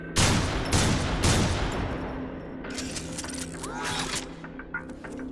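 A Neutron Assault Rifle fires in Transformers: War for Cybertron, with loud rapid bursts of sci-fi gunfire, then a clattering stretch of mechanical weapon noise and whirring effects.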